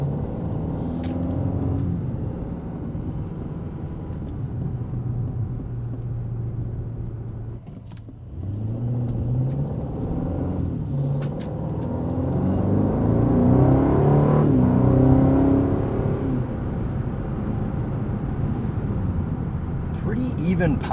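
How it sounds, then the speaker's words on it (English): Aston Martin DB12 twin-turbo V8 with its exhaust on the loudest setting, heard from the cabin while driving: a steady deep rumble with rising and falling engine tones, continuous and fairly loud, with a brief dip around the middle. "exhaust set to its loudest setting"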